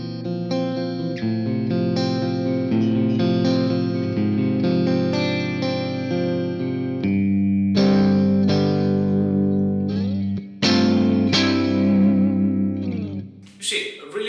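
A clean electric guitar plays a basic prog metal tone, with a series of sustained chords and ringing picked notes that are clear and fairly loud, heard alone without talk.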